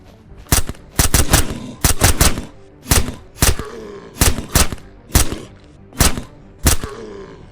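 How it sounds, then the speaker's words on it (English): Suppressed gunfire in the Surroundead video game, a steady series of about eleven sharp, muffled shots fired in quick pairs and singles, loud and close with no voices. "Man, I love this suppressor. It certainly gets the job done."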